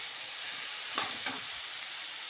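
Vegetables with ginger-garlic paste fry in a pan for curry, giving a steady close hiss of sizzling oil broken by two quick stirring scrapes.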